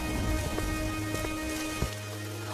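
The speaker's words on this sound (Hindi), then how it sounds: "उस तेज बारिश में" Heavy rain pours steadily on a cold night, a dense close hiss with a few sharp drop impacts, until the downpour cuts off abruptly near the end, leaving only a low hum.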